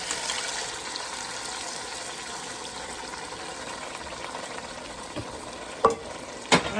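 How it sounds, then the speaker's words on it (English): Crushed and plum tomatoes going into a pot for a creamy tomato soup, giving a soft continuous sizzle and wet churn, with a few sharper clinks of a spoon against the pot near the end. "we add our tomatoes, crushed tomatoes, and plum tomatoes"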